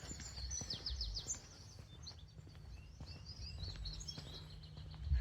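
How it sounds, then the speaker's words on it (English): Birds chirp and trill in quick high bursts in the morning by Rudyard Lake, fairly faint and at a distance, over low outdoor rumble and occasional footsteps. "The birds are really noisy this morning."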